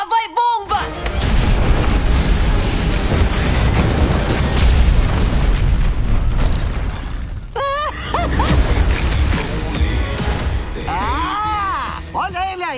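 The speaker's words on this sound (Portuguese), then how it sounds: "Lá vai bomba!" A bomb blast from the animated film The Addams Family 2, a long rumbling boom filling the middle of the clip between stretches of talking.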